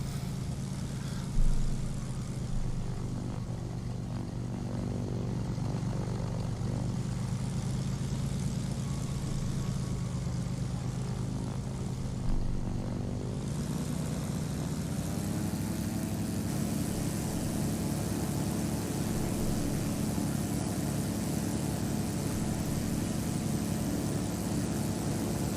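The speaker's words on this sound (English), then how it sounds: "Waiting here for our Constellation to take to the skies once more." A propeller-driven Super Constellation airliner in the Airport CEO game runs its engines for takeoff, a continuous low droning hum that rises in pitch and thickens midway, steady and moderately loud with no talk.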